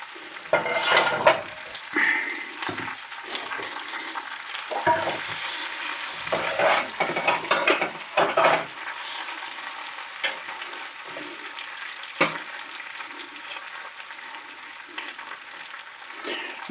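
Chicken fried pork sizzles in a pan while a utensil scrapes and stirs it, with irregular clattering scrapes over a soft constant frying hiss, close and moderately loud, with no talk.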